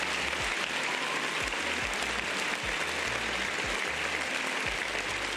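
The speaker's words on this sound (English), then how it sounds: "Big round of applause." Steady applause rolls on without a break for several seconds, a dense even clatter of hands, while low thumping sounds repeat underneath at regular intervals.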